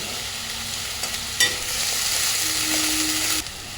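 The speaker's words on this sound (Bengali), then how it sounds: "দিয়ে দেবো আদা রসুন বাটাটা।" Ginger-garlic paste hits a hot pan and sizzles loudly, with a burst of scraping as it is stirred, a steady hiss throughout and no voices.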